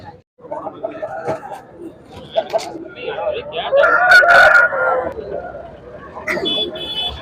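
At a busy outdoor rooster and goat market, a rooster lets out a loud, drawn-out crow near the middle, amid clucking fowl and people chatting nearby.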